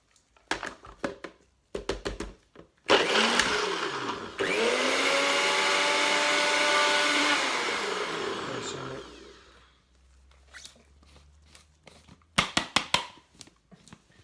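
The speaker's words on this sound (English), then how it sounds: "If you've got a food blender, obviously use that." A blender whirs loudly for about six seconds, its motor pitch rising then sagging, framed by clinks and knocks of kitchen handling before and after.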